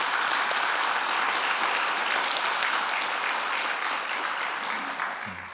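A church congregation applauds during a 20th-anniversary thanksgiving service, sustained full-room clapping that holds steady and tapers slightly near the end.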